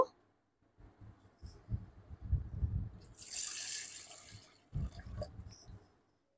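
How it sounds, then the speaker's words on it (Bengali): Red lentils being washed in water, with soft sloshing and rubbing in a bowl, a louder burst of running tap water in the middle, then more splashing before falling quiet. "এবারে আমি ডালগুলো খুব ভালো করে ধুয়ে নেব।"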